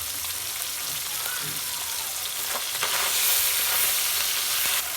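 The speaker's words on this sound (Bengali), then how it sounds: "বাকি মাছগুলো আমি ভেজে নেব এবার।" Bata fish frying in hot oil, a close, continuous crackling sizzle with a few stirring scrapes, growing slightly louder midway through.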